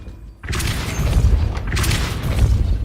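A Depulso force spell cast in Hogwarts Legacy, a sudden heavy booming burst after a brief quiet, followed by sustained rumbling, whooshing impact noise with a second surge near the end.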